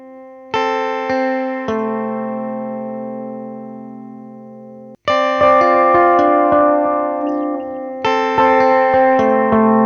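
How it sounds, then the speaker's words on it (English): Synthesized music notes and chords pass through a delay effect, each struck sound followed by decaying repeats that trail and overlap, in three loud, clear phrases with a short silent break between. "Delay creates copies of the original sound and plays these copies with a slight delay."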